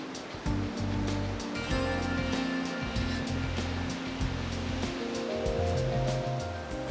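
Pacific Ocean surf breaking on a rocky Redwood Coast shore, a loud continuous roar of churning water with a low tonal layer running beneath it.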